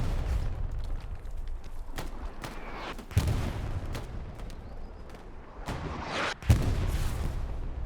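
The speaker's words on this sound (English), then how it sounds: "Oh, a grenade goes off." A grenade blast amid the World War II gunfire of the shooter game Hell Let Loose: a sharp boom rises out of steady distant battle noise, with several other heavy thuds and cracks scattered across the stretch and no talking.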